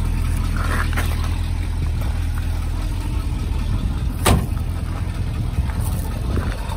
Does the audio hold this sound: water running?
no